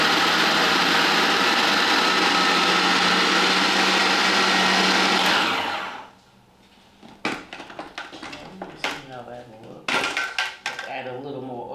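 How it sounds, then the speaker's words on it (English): A food processor whirs loudly and steadily while blending vegan veggie loaf ingredients, then cuts out abruptly about halfway through, leaving quiet kitchen clatter and light handling noises. "I'm going to mix all of that up before I put it into the food processor."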